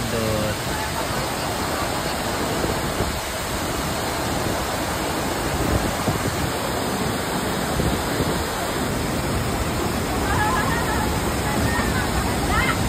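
Sayahan Falls, a waterfall on a hiking trip, pours in a loud, steady broadband rush that fills the whole stretch, with faint voices from people nearby under the roar.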